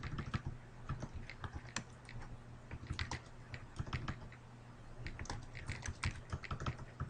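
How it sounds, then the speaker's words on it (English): Typing on a computer keyboard, a close, quiet run of quick key clicks with brief pauses, heard alone over a low background hum. "If I can type."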